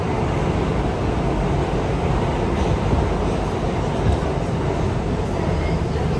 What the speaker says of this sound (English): This is a Queensbound F Express train.